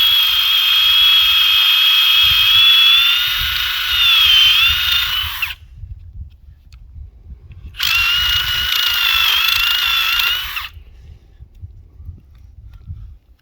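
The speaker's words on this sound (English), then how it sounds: "So now I'm gonna drill it at a little angle" A power drill whines steadily in two bursts, about five and three seconds long, boring at an angle into a maple tree, with a short pause between them and low rumbling in the background.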